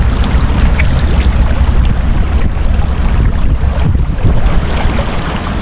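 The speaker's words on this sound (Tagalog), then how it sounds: "Lakas ng bulwak ng tubig." A strong current of water gushes and churns loudly and steadily at sea, with a dense roar and buffeting wind noise throughout and no voices.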